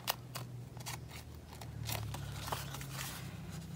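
Scissors snip through paper while a planner envelope pocket is trimmed, giving a run of close, crisp cuts at an uneven rhythm over a quiet room.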